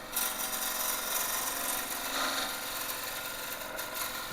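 Wood turning on a lathe with a turning tool, bevel riding and handle raised to flatten the end of a small blank near a 4-prong drive center: a steady, loud, continuous scraping and hissing cut with no talk.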